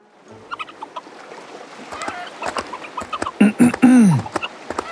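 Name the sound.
chicken being slaughtered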